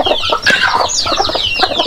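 Hens cluck on a small farm where chickens are raised for eggs and for trading, a busy, close run of overlapping clucks and squawks lasting under two seconds with no talk over it.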